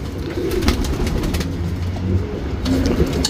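Patta pigeons coo softly and repeatedly close by, low rolling calls overlapping one another with light shuffling and faint clicks in between.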